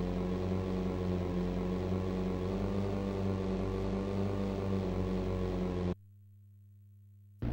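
Racing motorboats in a kyotei boat race give a loud, steady, droning engine roar with a low hum. It cuts off abruptly near the end, leaving only a faint tone.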